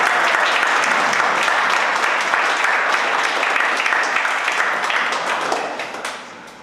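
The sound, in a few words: applause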